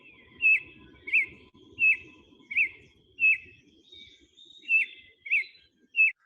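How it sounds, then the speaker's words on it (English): A pale-bellied thrush sings a clear, repeated whistled phrase about eight times in a steady rhythm, each note crisp and isolated by an acoustic reflector, over a faint low background rumble. "this is the same place with the reflector of pale-bellied thrush"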